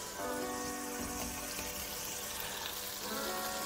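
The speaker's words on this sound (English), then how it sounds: "saute the figs." Whole figs sauté in a pan, giving a steady close sizzle and spatter with a faint tonal hum underneath and no talking.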